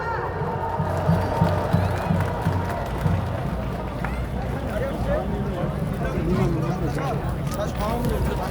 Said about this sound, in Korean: 여러분의 큰 박수와 함성으로 모시도록